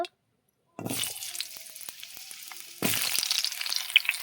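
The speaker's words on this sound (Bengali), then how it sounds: "মাছের তেলে আমি আলুটা ভেজে নেব।" Potatoes hit hot fish oil in a pan after a brief silence, starting a steady sizzle that swells louder with a second burst of frying near the end.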